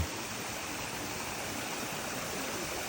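A water tap running outdoors with snow falling makes a faint, steady, even rush of flowing water with no talking.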